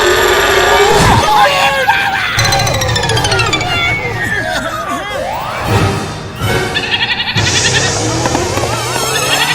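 A goat bleats in wavering, quavering cries mixed into a busy, loud scene with overlapping voices and other clattering noises throughout.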